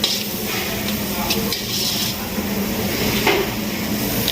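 Sliced onions fry with salt in a pan for spiced rice, giving a steady soft sizzle with occasional stirring scrapes throughout.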